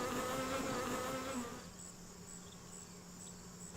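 A steady buzz of many honey bees around a hive, dense and close, with faint whines of single bees passing over a constant drone and no voices.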